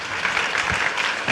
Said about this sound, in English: Please give a big round of applause for the mics